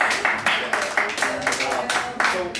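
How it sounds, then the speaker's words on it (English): A live audience at a social media app launch event in Cancun gives a round of applause, rhythmic clapping throughout, fairly close. "give her a round of applause for her"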